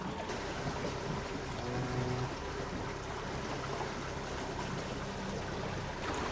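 A fishing boat's engine idling at about 900 rpm while the boat moves slowly across water, heard as a faint steady motor hum that is mixed with continuous water wash and trickling.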